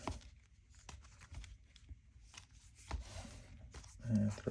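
Marvel Champions playing cards are shuffled by hand at a tabletop, making faint, scattered papery riffles and soft taps close by, with a slightly louder flutter near the end.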